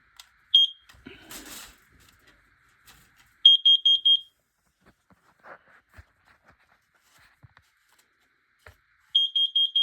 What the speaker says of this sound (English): Now let's test our CO detector.